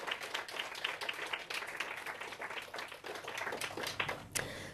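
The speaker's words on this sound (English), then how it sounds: "So a round of applause to all those people." Light, scattered applause for Russian student helpers at the Girls 20 Summit in Moscow, a thin patter of claps from a small group, fairly quiet and steady throughout.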